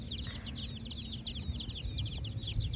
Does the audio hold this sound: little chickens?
yes